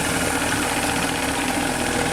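A model steamboat gunboat, the Fulgerul, runs its small steam engine as it speeds back up, a loud, dense, steady mechanical chugging and hiss heard close and alone.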